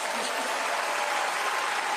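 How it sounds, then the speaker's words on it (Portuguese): Dense, steady applause from a large crowd at an outdoor vigil for Charlie Kirk in the USA, loud and sustained throughout with no pauses. "A plateia aplaude."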